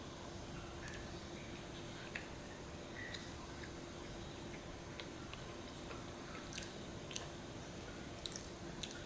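Someone chews and bites into chicken 65 while tasting it, with soft, close, irregular wet chewing and ticking clicks over a steady background hiss, no talking.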